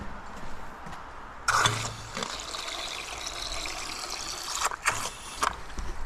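Water trickling and splashing into a livestock drinker trough in a slatted shed, with a few louder gushing bursts over a steady background flow.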